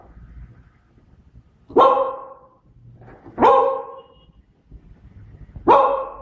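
A beagle gives three loud, sharp barks on command, evenly spaced about two seconds apart, with quiet pauses between them.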